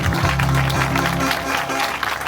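Audience at a Telugu religious gathering clapping loudly in a steady, continuous burst that fills the room from start to finish.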